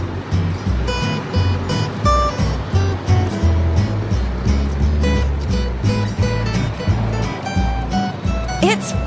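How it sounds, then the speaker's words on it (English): A hovercraft's engine roars continuously while waves slap and crash rhythmically beneath it, loud and close, with a brief rising whistle near the end. "It's fun riding the waves."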